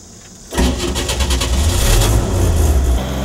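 A pickup truck converted to run on gasified wood roars to life after a quiet lead-in, then holds a loud, steady engine drone with a throaty low rumble.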